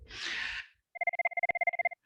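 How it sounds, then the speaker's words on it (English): An IP desk phone on a shared line rings with a rapid electronic trill of evenly pulsed beeps, clear and close, following a brief breathy rustle at the start. "both the devices were ringing"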